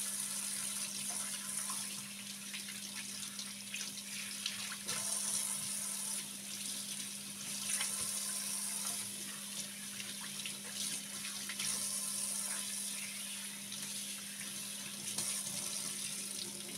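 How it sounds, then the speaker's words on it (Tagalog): Pork fat for homemade chicharon rinsed under a running kitchen tap, a steady hiss of flowing water with a constant low hum, continuous and close, no talking. "So hugasan lang natin ulit."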